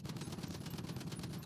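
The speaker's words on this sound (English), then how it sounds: "start off with the default GTA pistol and see how many mags it takes into the block of this thing to set it on fire" The default pistol in GTA fires rapidly at a vehicle, a quick string of faint, evenly spaced shots.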